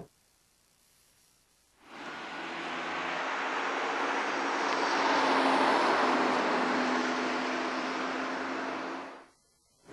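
A Citroën C3 Pluriel engine roars while driving on a highway, a broad, droning rush that swells in abruptly, holds loud for about seven seconds, then cuts away.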